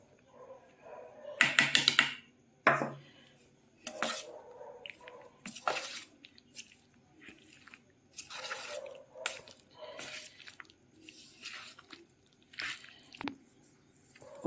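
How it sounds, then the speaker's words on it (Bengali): Hands mix chicken pieces with cornflour close up, making wet squelching, squishing bursts in irregular clumps with quiet gaps between. "কর্নফ্লাওয়ারটা ভালো করে মাখিয়ে নিয়েছি।"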